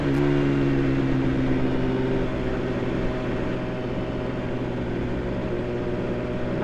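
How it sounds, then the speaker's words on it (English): Steady engine hum and road rumble from traffic at rush hour near Fort Monroe, a continuous close drone with a tonal whine that holds across the whole stretch, no talk. "rush hour traffic"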